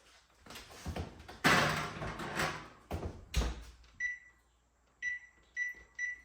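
A convection oven door thumps and clatters as bread goes in, followed by a series of bright electronic beeps as the oven timer is set, close and fairly quiet in a kitchen.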